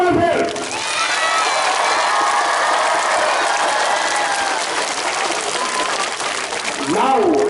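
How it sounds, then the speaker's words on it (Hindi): An audience at an Azadi Ka Amrit Mahotsav celebration gives loud, sustained applause, with steady clapping filling the space alongside crowd cheering and a few whistles, easing slightly before swelling again at the end. "जोरदार तालियां एक बार फिर."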